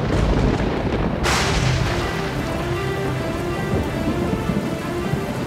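Torrential rain pours down in a heavy thunderstorm, a dense, loud, constant hiss of falling water with deep thunder rumbling beneath it throughout.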